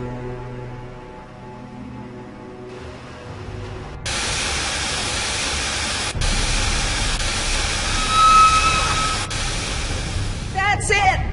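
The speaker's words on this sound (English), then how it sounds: "That's it! The steam has been vented." Steam vents with a loud, steady broadband hiss in Jurassic Park: The Game, cutting in abruptly and holding over a low rumble and a few faint clicks.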